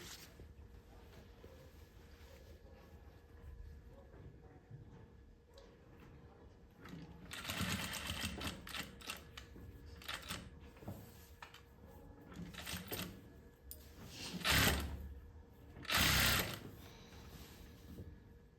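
A sewing machine stitches along the edge of a piece of cloth in bursts of rapid mechanical whirring that grow louder midway, broken by short pauses and a few sharp clicks and knocks.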